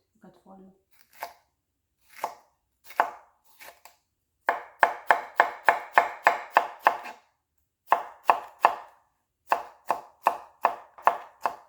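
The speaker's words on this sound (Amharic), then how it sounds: "ይሄንንም ድቅቅ አድርጌ ለቀደም ሽንኩርት እንደከተፍኩት እከትፈዋለሁ።" A knife finely chops a chili pepper on a board in quick bursts of sharp, crisp taps, some runs rapid and evenly spaced, with short pauses between and no one speaking.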